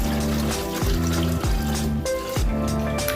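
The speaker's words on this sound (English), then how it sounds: "wash your callaloo thoroughly" Callaloo leaves being washed in water, with steady trickling and splashing and a few sloshing surges as the greens are swished and lifted, close and fairly loud with no voices.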